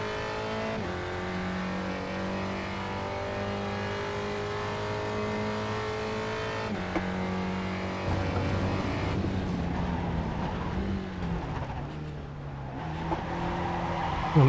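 Race car in iRacing at the Red Bull Ring spinning out, its engine droning in a steady whine and then wavering as the tires squeal and scrub through the slide, loud and up close.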